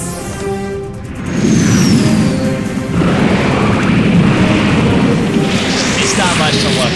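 Explosion of a downed enemy unit in SD Gundam G Generation Eternal, a loud sustained blast lasting several seconds after a brief synth sweep.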